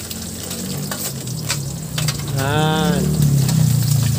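Chopped onions hitting hot oil in a home cooking pan, a loud steady sizzle that swells as they go in, with people talking over it.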